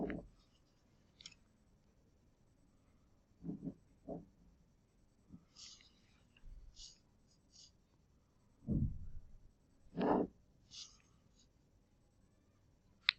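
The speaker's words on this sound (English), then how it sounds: "I'm going to just draw out a parallelogram." A pen scratches out a rough parallelogram on paper, with scattered short strokes and a few longer scrawls, close and quiet with long pauses between.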